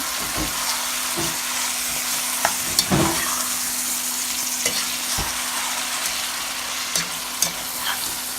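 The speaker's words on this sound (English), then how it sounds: "stir it well, mix it around" Salted chicken biryani is stirred in a pot, giving a steady sizzling frying hiss with a few louder scrapes and thuds of the spoon against the metal.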